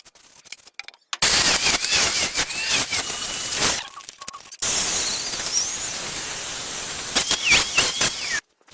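A hot knife made from discarded salon razor blades plunges into quenching oil, letting out loud bursts of harsh hissing and crackling sputter that cut off abruptly between dips.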